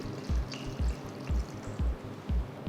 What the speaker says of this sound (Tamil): இப்போ இது நம்ம குக்கரில் போட்டு வேக வச்சுக்கலாம். தேவையான அளவு தண்ணியை ஊற்றி